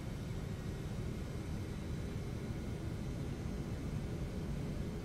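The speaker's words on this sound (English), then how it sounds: "So here we go on the takeoff roll." Boeing 717 accelerating down the runway on its takeoff roll in a flight simulator game, a steady, loud broadband engine roar that holds level with no voices over it.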